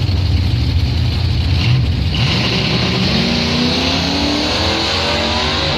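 Loud, continuous engine roar from a Dodge Dart and a 1985 Ford Mustang drag racing at Northern Michigan Dragway, with rising revs sweeping upward as the cars accelerate down the strip. No voices.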